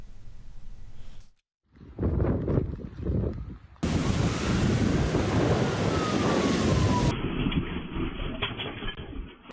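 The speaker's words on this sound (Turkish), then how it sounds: "Birçok ilde şiddetli yağış ve fırtına etkili oldu." A severe storm lashes down with heavy rain and deep rolling thunder, dense roaring noise filling the scene, briefly cutting out before surging back louder and continuous, with wind buffeting the microphone.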